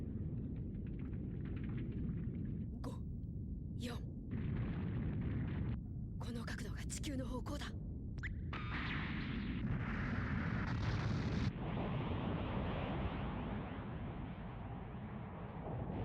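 Deep rumbling explosions from the anime Gundam Wing: Endless Waltz and sharp bursts break out over a constant low roar, with a few loud blasts clustered in the middle.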